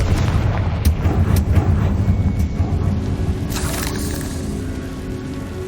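A Confringo blasting curse goes off in Hogwarts Legacy as a loud, broadband explosive burst, followed by dense rumbling crackle and several sharp impacts that slowly settle into a steady low roar.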